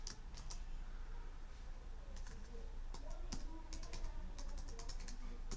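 Typing on a computer keyboard to enter a password, a quiet, close run of light, irregular key taps with a few sharper clicks over a faint steady hum.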